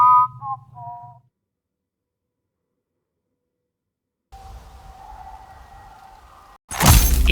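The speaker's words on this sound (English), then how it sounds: "Engaging whistling subroutine." A robot in the sci-fi video game Everreach: Project Eden whistles a brief falling melody of a few clear notes, followed by silence, then a low electronic hum and a sudden loud burst of noise.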